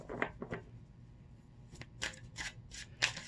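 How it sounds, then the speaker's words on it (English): Tarot cards shuffled by hand in several quick bursts of riffling and rustling, close and fairly quiet, with short pauses between bursts and no talking. "So let me pull some cards to see specifically what's going on."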